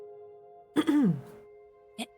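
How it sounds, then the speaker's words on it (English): A woman clears her throat once with a short rasping rumble just outside a door, fairly close and moderately loud, followed a moment later by a single soft knock. "clearing her throat and knocking politely."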